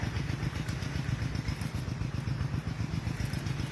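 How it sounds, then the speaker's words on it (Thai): An engine-driven water pump runs steadily close by, its low throbbing chug steady and unbroken as it pumps water around a tree-filled plot in hot sun. "ก็สูบน้ำวนไปนะคะ สูบน้ำวนไปค่ะนี่ค่ะ"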